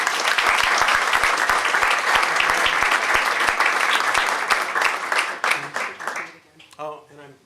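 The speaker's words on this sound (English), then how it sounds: "How about another round of applause for these?" Applause fills a city council meeting, a loud dense round of clapping with a few sharp individual claps, thinning out toward the end as voices begin talking.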